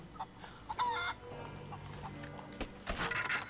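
Chickens clucking in the video game Rise of the Tomb Raider, several short nearby clucks and squawks in irregular bursts over a low game background.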